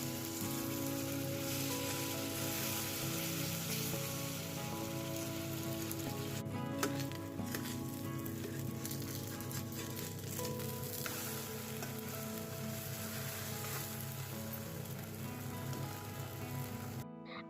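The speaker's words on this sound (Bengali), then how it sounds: "এদিকে আমি এক এক করে গোলা রুটিগুলো ভেজে নিচ্ছি" Gola ruti, a batter flatbread, frying in a pan, giving a steady, dense sizzle that continues close and unbroken throughout with no voices.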